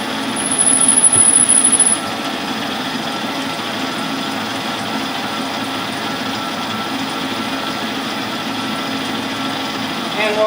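A center drill runs into a collet bushing for a mill head on a metal lathe, a steady even machining hum and whir holding throughout, slightly louder in the opening seconds.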